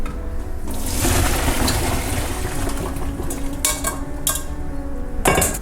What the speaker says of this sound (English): Okay, so water already started boiling, so I'm gonna strain out.